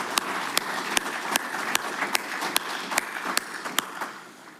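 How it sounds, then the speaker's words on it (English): An audience at an electric cooperative annual meeting claps in steady, dense applause with a few sharp individual claps standing out, holding fairly loud before fading at the end. "So give them another round of applause."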